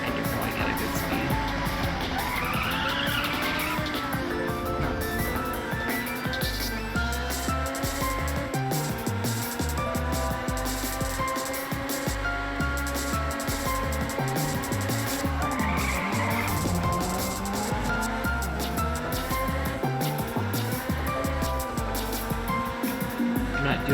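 Racing car engine from the video game Ridge Racer Type 4 droning steadily with shifting pitch through gear changes, tire squeal and skidding rising over it, continuous and loud throughout.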